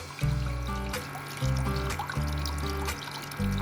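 Water trickling and pouring into the tank of a plant growing system during automatic refill, a steady close stream under a sustained low musical background.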